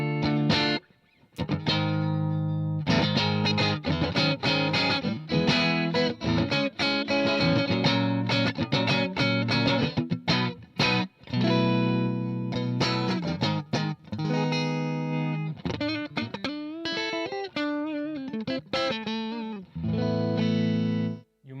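A Les Paul electric guitar with T-top pickups plays clean tones, a continuous run of loud, ringing picked notes and chords with effects applied, heard alone with no voices.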